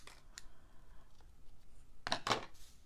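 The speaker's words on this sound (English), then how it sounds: "I'm just going to cut it straight." Scissors making a straight cut through paper in a craft workshop, with faint snips early on and then two louder, close crunching cuts near the end.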